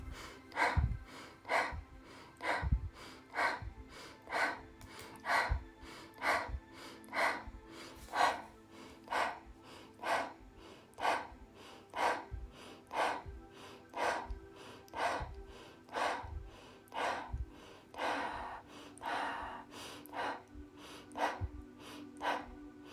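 Fast, rhythmic breathing during a guided meditation, with sharp inhale-exhale bursts repeating steadily for over twenty seconds, close and fairly loud, with no talking.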